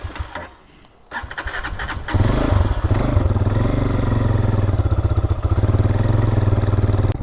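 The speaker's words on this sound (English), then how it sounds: "Of course, being carbureted, you gotta give it a little throttle and keep the idle up." A carbureted 2023 Hawk-X 250 motorcycle engine cranks, catches and starts after a brief lull, then settles into a loud, close, steady rumbling idle with slight throttle blips.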